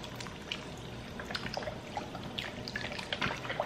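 More liquid is poured into a pot of soup, a faint close trickle and splash lasting a few seconds, with no talk.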